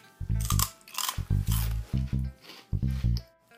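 Close, crisp crunching bites in quick irregular bursts, a sweet, dry puffed rice snack from a Korean market being chewed with short pauses between crunches.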